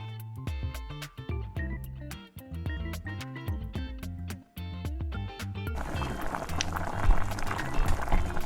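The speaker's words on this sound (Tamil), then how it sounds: "நம்ம அரைச்சி வச்ச புளியை ஊற்றிக்கலாம். இது நல்லா கொதிக்க விடுங்க." Tamarind paste simmers in a pan for temple-style puliyodharai, a steady bubbling hiss rising over the last few seconds after a stretch of tonal music.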